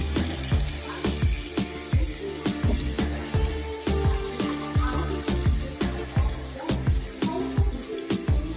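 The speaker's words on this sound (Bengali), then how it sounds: "এবার জল দিয়ে দেব।" Water poured into a pan of prawns cooking for a Bengali tel chingri, a steady splashing pour with rapid rhythmic clinks and taps running throughout, close and fairly loud, with no talking.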